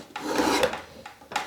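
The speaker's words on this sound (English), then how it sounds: "chiseling and running a draw knife" Draw knife shaving very dry pine, two close, dry rasping strokes in quick succession, each a short scraping pull with no voices.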